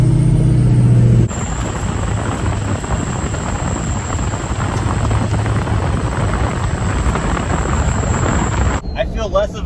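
A squatted Ford 6.0L Power Stroke diesel truck drives with a loud, steady engine roar, a high turbo whistle sustained over it for several seconds before fading.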